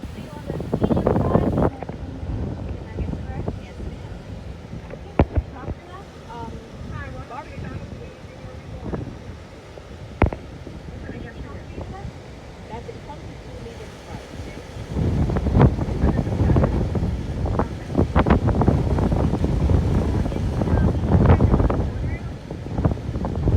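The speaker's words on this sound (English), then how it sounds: "The wind is like blowing directly here." Strong gusts buffet the microphone outdoors near swaying palm trees, rumbling and roaring in uneven surges that ease off mid-clip and swell again toward the end, with voices talking over it.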